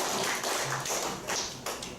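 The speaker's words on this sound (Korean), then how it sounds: "좋은 말씀해 주신 김국당장님께 박수 부탁드립니다" Applause from a committee meeting audience in a hall, a steady wash of many hands clapping at moderate distance for a couple of seconds, with no talk over it.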